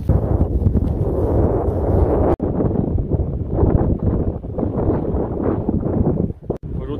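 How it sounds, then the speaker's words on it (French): Strong wind buffets the microphone with a loud, continuous low roar that drops out briefly twice before gusting back in, on a coastal hiking trail between Mont-Saint-Michel and Saint-Malo, France. "il y a beaucoup de vent"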